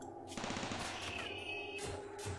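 Automatic turrets firing in RimWorld, a rapid, loud stream of game gunfire bursts filling the scene with steady machine-gun-like shots and a few sharper tones.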